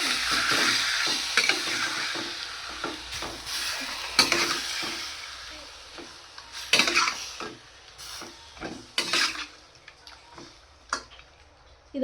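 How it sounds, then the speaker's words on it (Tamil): Chicken sautéing in a pan over a low flame, a soft continuous sizzle broken by repeated stirring scrapes and light clinks of a utensil against the pan, close and steady with no talking. "சிம்மில் வச்சு வதக்கிக்கலாங்க"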